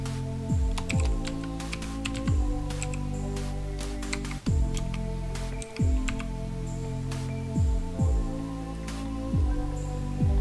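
Keys clack steadily on a computer keyboard as a WiFi password is entered, with irregular bursts of taps and a few heavier strokes over a faint background hum, no voices.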